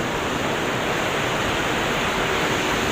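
Ocean waves crash on the shore at Aurora, a loud, steady broadband roar of surf that fills the whole stretch without pause or distinct breaks.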